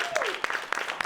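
Short burst of audience clapping during a live talk show season finale, a quick scatter of claps with a few louder hits, fairly close.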